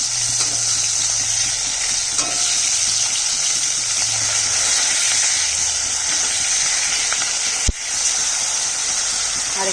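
Bata fish frying in hot oil after the first side has cooked, with a dense, steady sizzle close to the pan, faint stirring or scraping beneath it and one sharp knock partway through.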